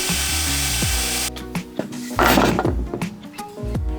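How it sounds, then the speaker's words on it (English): Orbital sander works over the wooden legs of an old cabinet, a loud steady buzzing hum that cuts off, followed by scraping, rubbing and knocking sounds of shifting wood and tools close by. "And then of course the orbital sander has to clean up these legs."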